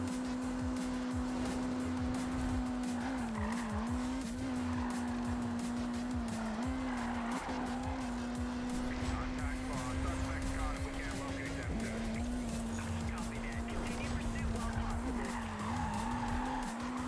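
A fast car in a racing video game skids continuously, with a loud, sustained tire squeal over a steady engine drone that runs the whole stretch without a break.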